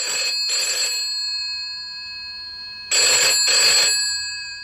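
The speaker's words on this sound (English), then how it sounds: "My phone's working anyway, said Mrs. Goggins." An old-fashioned telephone bell rings in two bursts of double rings, clear and fairly loud, with a quiet pause between, alone without talk.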